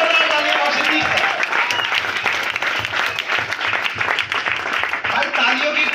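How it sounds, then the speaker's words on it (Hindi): A crowd at a company launch event in North India bursts into loud, dense applause, with many hands clapping continuously and evenly throughout. "जोरदार तालियां"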